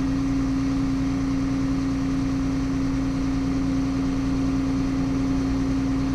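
A New Holland T6.175 tractor engine idles steadily near 1200 rpm during Electro Command transmission calibration, a constant low drone with a strong steady hum and no voices.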